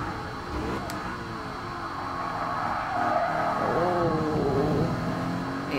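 A BMW M3 race car in Gran Turismo Sport roars steadily around the Nürburgring GP circuit, its engine note rising and falling through the corners, with tire squeal, loud and close and without talk.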